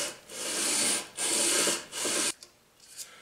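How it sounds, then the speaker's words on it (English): Guitar frets sanded with 320 grit sandpaper, three long rasping back-and-forth strokes close up, followed by a couple of lighter brushing scrapes. "This is 320 grit, so it's not terribly aggressive but it, it will remove some material"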